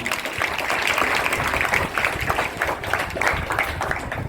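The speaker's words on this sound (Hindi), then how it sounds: "इनके लिए जोरदार ताली।" Students and audience clapping for quiz groups at a school cleanliness quiz programme, a steady, energetic round of applause from many hands lasting several seconds, with some voices faintly underneath.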